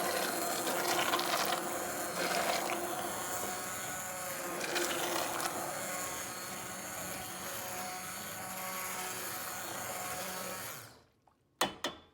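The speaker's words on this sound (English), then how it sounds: "I'm going to give it just another little blend." A blender whirs loudly and steadily through cauliflower and cashew soup with turmeric, then stops abruptly near the end, followed by a few clunks.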